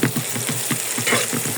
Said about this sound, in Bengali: ভালো মতন পেঁয়াজটা একটু ভেজে নেব